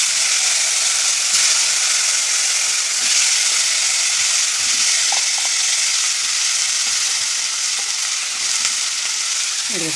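Hot oil sizzles loudly and steadily in a pan as salt and turmeric go in for a fish curry. The hiss is continuous and close, with faint utensil clinks underneath.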